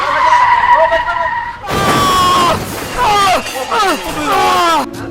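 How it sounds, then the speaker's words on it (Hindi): Loud tires screech and skid in several sharp, sliding bursts as a car nearly hits someone on the road, with shouting voices mixed into the screeching. "अरे गाड़ी आ रही है भाई, ओ भाई बच गए।"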